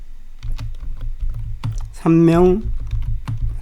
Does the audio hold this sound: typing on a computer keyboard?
yes